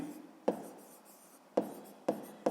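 A pen scratches across paper in brief strokes, with a few sharp taps marking pauses, close up and quiet while working through a sixth-grade math exercise.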